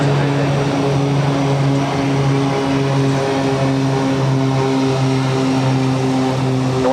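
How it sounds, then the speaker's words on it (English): A Cape Air propeller plane takes off at Boston airport, its loud, steady engine drone carrying a strong humming tone that holds throughout. "Cape Air taking off."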